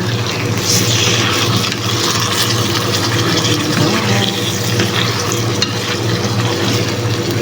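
Chicken pieces sautéing in a pan for red rice, a steady broad sizzle with scraping stir sounds running continuously and fairly loud, no voices over it.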